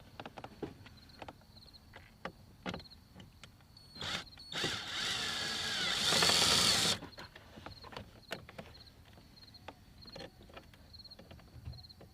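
Power driver fitted with a T20 bit removing screws from a BMW E93 328i convertible, giving one sustained whir of about three seconds amid scattered clicks and small handling knocks, close by.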